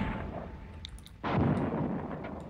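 An artillery round fires in the Sudden Strike war strategy game: a single muffled, fairly distant boom cuts in halfway through, then a rumbling tail, over low background ambience.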